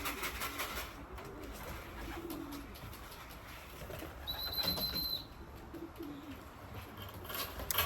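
Young racing pigeons at the loft coo softly, with bursts of flapping wings and a brief whistle-like call. The sounds are quiet and carry over faint outdoor background noise.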